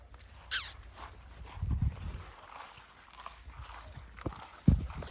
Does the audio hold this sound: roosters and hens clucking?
no